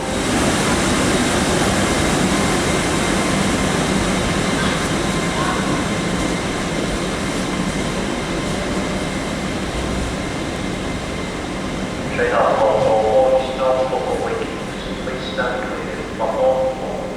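New trains on the East Coast Main Line, likely running in diesel mode, rumble past with a broad, steady roar, and a louder rush swells near the end.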